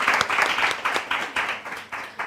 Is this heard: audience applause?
yes